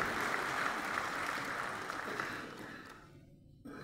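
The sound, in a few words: audience applause at award ceremony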